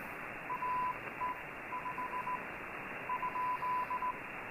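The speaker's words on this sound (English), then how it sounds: "in the lower part of the bands is usually where you'll find most of the Morse code signals" Morse code from the lower part of an amateur radio band: a single steady-pitched tone keyed on and off in short and long bursts, riding over a constant bed of receiver hiss.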